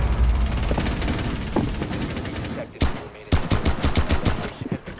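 Rapid gunfire bursts in Rainbow Six Siege, close and loud, with sharp repeated shots clustering in the second half over steady game background noise.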